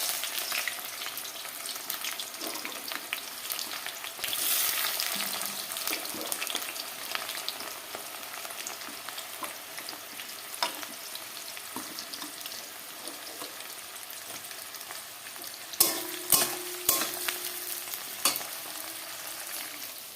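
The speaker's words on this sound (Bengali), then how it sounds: "তেলের উপরে দিয়েছি এলাচ আর শুকনো লঙ্কার এখন দিচ্ছি পেঁয়াজ" Onions fry in oil with cardamom and dried chillies for a biryani cooked for fifty people, a loud, steady sizzle and hiss with occasional stirring clanks that grow sharper toward the end.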